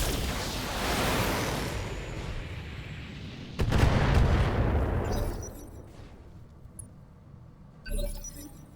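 Heavy mech weapons firing in the BattleTech video game, a roaring barrage that swells, then a sharp loud blast, fading out before a final booming burst; no talk.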